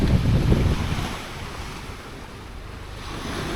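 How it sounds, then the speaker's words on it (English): Waves wash onto a sandy beach at Camp de Mar in Mallorca, a rushing surge at first that eases into a softer wash, with gusts of wind buffeting the microphone. "Yeah, we've got a few waves. And a sandy beach."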